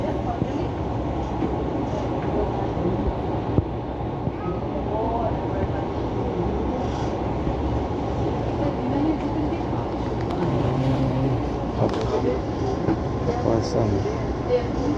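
A commuter electric train, one of the last runs of Tokyu 8500, JR 203 and TM 7000 sets, rumbles past steadily for the whole stretch, with broadband rail noise and occasional clacks under faint background voices.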